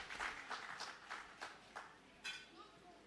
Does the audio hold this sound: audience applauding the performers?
yes